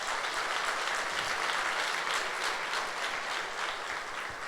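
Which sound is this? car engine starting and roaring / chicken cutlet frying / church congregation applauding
church congregation applauding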